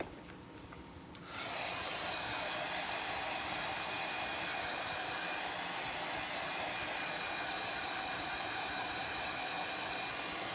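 A hair dryer blows steadily and loudly on a tall wooden sign to dry fresh paint, switching on after a second of quiet and then running alone as a continuous broadband whoosh.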